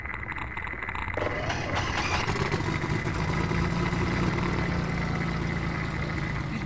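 A steady, droning boat engine in Half-Life 2 runs throughout, loud and continuous with a low rumble.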